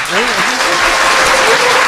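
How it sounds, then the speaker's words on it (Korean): A studio audience gives loud, dense applause for a lawmaker, a continuous roar of clapping with a voice speaking briefly over it at the start. "도주환 의원님 박수 부탁드립니다"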